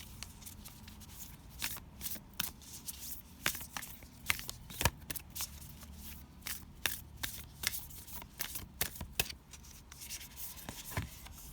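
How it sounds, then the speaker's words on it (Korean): Oracle cards shuffled by hand in a string of soft riffles and crisp slaps, close and fairly quiet, arriving in irregular bursts over a low background hiss. "그러면 오라클 카드를 뽑아볼게요"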